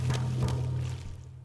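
A game splash sound effect layered with white noise, a short, full rushing burst like water pouring that fades away within about a second and a half.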